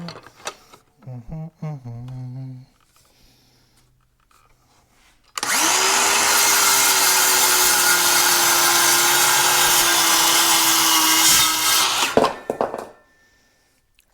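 A carbide-tipped saw blade cuts through a plastic wear edge for a three-point tractor blade, giving one loud, steady whining cut of about seven seconds that follows a brief spoken line and quiet handling.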